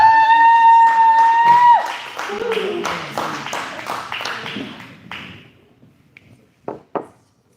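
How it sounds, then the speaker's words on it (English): Scattered audience clapping at a live comedy show in the Wild River Pub, a string of sharp separate claps over a sustained tone and voices, thinning out to a few last isolated claps. "Hold the applause."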